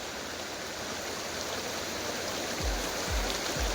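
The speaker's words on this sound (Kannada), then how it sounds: "ಇವಾಗ ಈ ಕಡೆಯಿಂದ ವ್ಯೂ, ಅದೇ ಬೆಟ್ಟದಿಂದ ನೀರು ಹರಿದು ಬರ್ತಾ ಇರೋದು." A river runs down from the hills past a temple: a steady, full rush of flowing water close by, with a few low thumps near the end and no voices.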